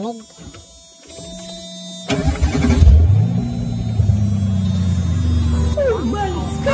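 A 1990 Ford F-150 pickup with the 4.9L engine, old and rusty, starts up and settles into a steady low rumble. The running engine stays loud and close, with voices talking over it.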